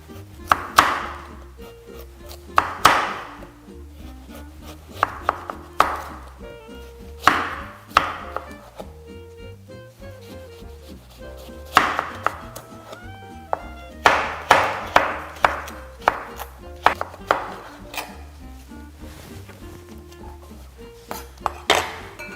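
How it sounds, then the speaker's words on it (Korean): Knife julienning carrots thinly on a cutting board for carrot sushi, heard as bursts of quick, close, crisp chopping taps in a steady rhythm, separated by brief pauses, with no talking. "이제 당근을 얇게 채 썰어 보겠습니다."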